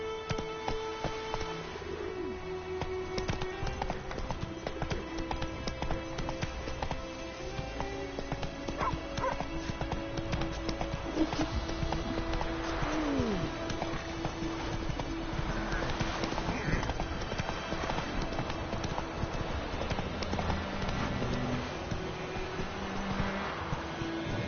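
Roach, the horse in The Witcher 3, gallops with rhythmic hoof clip-clops over a bed of game music and ambient sounds, including faint bird calls, the steps steady and moderately loud throughout.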